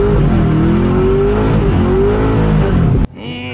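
Supercharged Corvette Z06 doing a burnout: a loud, continuous engine roar at high revs with tire noise, the pitch wavering as the throttle is held, cutting off abruptly near the end.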